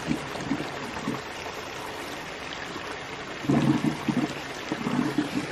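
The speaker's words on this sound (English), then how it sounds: "You can hear how this barrel is gulping air, and that's really good for the hydro system." A barrel at a micro hydro intake with a Coanda screen gulping air, rhythmic low glugging bursts over a steady rush of flowing water, the gulps clustering near the start and again toward the end.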